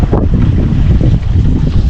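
Strong wind roaring across a microphone aboard a sailboat heading into the swell on a grim morning, a loud continuous buffeting rumble with the wash of sea beneath, no voices.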